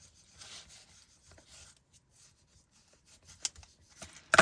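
Burnishing tool rubbing over a woven cup basket, a soft scraping rasp in short strokes that grows into a few louder, sharper rubs near the end, close and alone.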